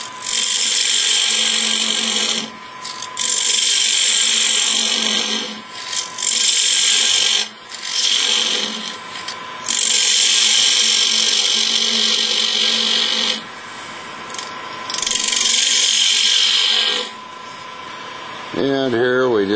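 A turning tool cuts a wood tenon on a lathe, giving long rasping scrapes in bursts separated by brief pauses, loud and close, with a rising whine as the lathe spins near the end.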